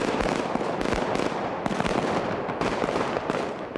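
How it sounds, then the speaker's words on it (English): Heavy gunfire from the big street shootout in the 1995 film Heat, rapid overlapping cracks and bangs in a dense, loud continuous barrage with no talk. "So the big gun shootout that you hear in the movie is all production sound."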